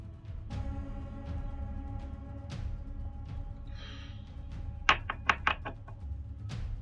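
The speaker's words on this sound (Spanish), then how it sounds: "Me viene a petar a la puerta, oye." A cluster of sharp knocks on a door in the video game Fortnite lands near the end, over a steady low game background hum.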